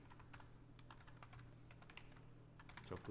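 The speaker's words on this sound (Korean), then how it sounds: "추우니까 손이 얼어가지고 타자가 잘 안 쳐지네요." Typing on a computer keyboard during a lecture: quiet, irregular key clicks patter continuously near the microphone with no voice over them.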